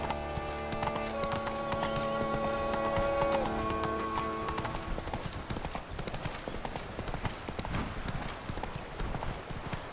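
Roach the horse gallops in The Witcher 3, a quick rhythmic clip-clop of hooves that runs steadily throughout, with tonal music over the first few seconds before the hoofbeats carry on alone.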